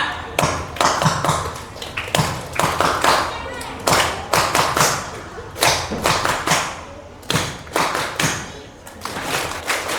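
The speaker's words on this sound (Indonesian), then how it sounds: "Ustaz kasih tepuk tangan, antum perhatikan, nanti ikutin sama-sama" A group of pupils at a grade-6 graduation celebration at an Indonesian Islamic elementary school claps in rhythm, sharp, loud bursts of hands falling into a repeating pattern with brief gaps, with some voices mixed in.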